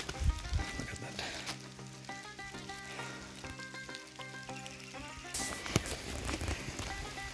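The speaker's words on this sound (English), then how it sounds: "So it's raining" Rain patters steadily near a mountain cave, a dense hiss with scattered close drops throughout, louder bursts toward the end.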